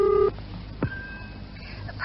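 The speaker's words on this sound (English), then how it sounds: "I'll dial for you." Telephone number dialed as a short run of clear, loud touch-tone beeps at the start, followed by a brief click and a faint steady tone, in a quiet room.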